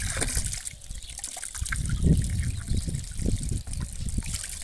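Water running from a public stone fountain, a steady trickling and splashing stream close by, fluctuating gently as it falls, with no clear talking.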